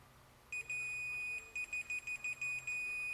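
A Fluke multimeter with new test leads gives a high, pure continuity tone as the prongs touch, first held steady, then sounding in a quick series of short repeated beeps, clear and close over a quiet background.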